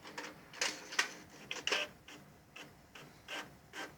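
A color laser printer running a test page gives a soft, steady stream of rasping, rubbing paper-feed and mechanism noises with small ticks, quiet and fairly close, with no voices.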